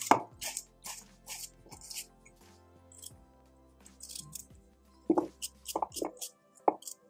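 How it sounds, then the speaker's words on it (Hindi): A knife cuts peeled, washed radish (mooli) into small pieces on a board. Irregular sharp chops and taps come close and clear, in short runs with pauses, and a few heavier knocks toward the end. "और अब हम इसको छोटे छोटे पीस में कट करते हैं।"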